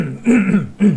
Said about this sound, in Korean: 에어컨 끼니까 자꾸 기침이 나와요